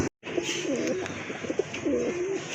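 Pigeons coo nearby in soft, throaty bursts, a few rolling calls spaced over a low steady background hum.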